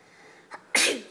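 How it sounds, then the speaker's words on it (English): A small boy sneezes once close up, a short intake breath followed by a sharp, loud burst, with no other sound around it. "Oh, my little man's sneezing."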